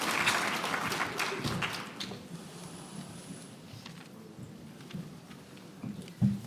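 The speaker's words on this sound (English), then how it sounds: "So please give them a round of applause." Applause from a conference audience at a federal update session starts fairly strong, then thins and fades into scattered claps and room noise.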